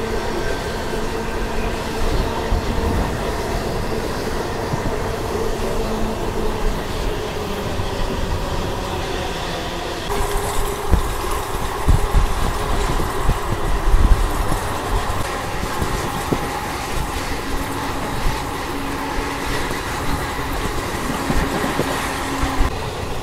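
A MEMU commuter train runs along the rails, heard from inside as a constant loud rumble and rattle that grows rougher and more jolting partway through, with no voices.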